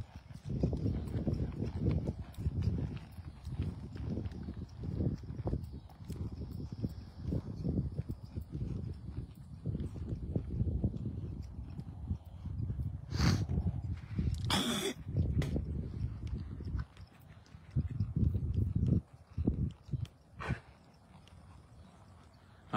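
Comanche, an 8-year-old horse that plows 1,850 acres, walks outdoors while being ridden, hooves clip-clopping in a steady, fairly close rhythm with brief rustling bursts and a few louder clatters toward the end.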